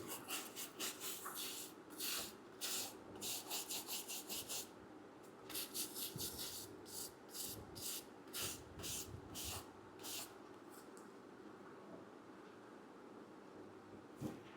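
Household items are hand-polished with repeated soft rubbing strokes in brisk clustered bursts and brief pauses, quiet and close, with no talking.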